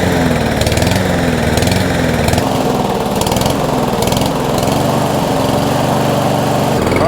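Small Briggs and Stratton engine on a lawn mower running steadily up close, its speed repeatedly rising and falling in an uneven surge, loud and continuous with no talking.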